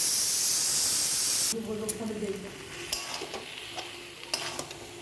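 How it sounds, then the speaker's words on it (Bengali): Mutton sautés in a pan while being stirred now and then, a loud hiss fading into softer sizzling with scraping clatters and a faint voice underneath. "মাঝে মধ্যে খুলে নেড়ে দিচ্ছি"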